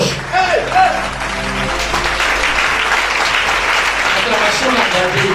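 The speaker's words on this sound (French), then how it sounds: "Acclamation, acclamation." Applause from an audience at a French-language sermon swells under a voice, then carries on as a dense, loud clatter of many hands.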